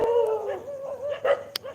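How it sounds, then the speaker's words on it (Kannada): A dog at a house barks in a quick run of yips and whimpering woofs, near and fairly loud, lasting under two seconds with no speech. "ನಾಯಿ ಸೌಂಡು."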